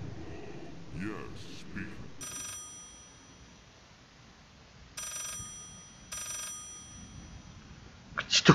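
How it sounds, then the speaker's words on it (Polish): A telephone rings in the eerie house of Layers of Fear, three short rings spaced a couple of seconds apart, muffled and fairly faint, with someone speaking briefly before them. "To cholera jasna dzwoni."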